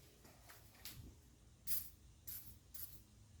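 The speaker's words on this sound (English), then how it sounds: "I don't want to damage it, so I'm going to spray it with" Penetrating oil sprays from an aerosol can onto a Ford Ranger 2.5 L engine during a teardown, in three or four short hissing bursts, faint and close, with quiet room noise between them.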